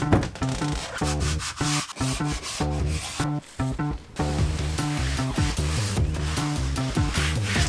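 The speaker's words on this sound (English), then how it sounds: "I'm going to start by sanding" Wood surfaces on a boat are sanded by hand, with close, loud rubbing strokes in a quick uneven rhythm and a few brief pauses.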